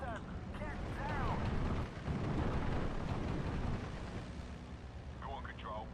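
Strafing run on infantry in the video game Steel Division 2, with a dense, continuous roar of aircraft fire and explosions filling the scene at steady loudness, plus a brief dip partway through.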